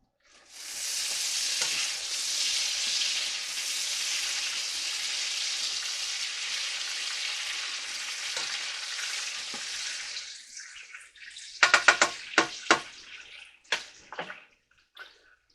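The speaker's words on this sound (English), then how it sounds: "kind of deglaze the bottom of the pan there" A spatula deglazes a pan of chicken alfredo: a long, steady hiss of liquid sizzling against the hot pan for about ten seconds, then a few sharp scrapes and taps as the sizzle dies down.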